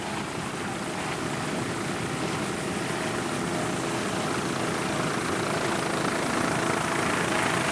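Steady, loud engine roar from a 28-foot Activator offshore racing powerboat at a 2001 world championship race in Key West, a continuous broadband drone holding level throughout with no talk.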